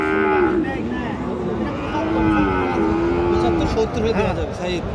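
Indian bullocks at a crowded cattle market give repeated low, drawn-out moos that overlap one another in a steady din, with nearby voices and general market chatter underneath.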